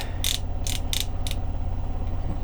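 Ratcheting knee joint of a Transformers Masterpiece toy being flexed, four short sharp plastic clicks close up in an uneven rhythm over a steady low hum.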